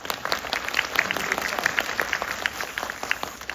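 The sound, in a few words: audience applause at a film screening talk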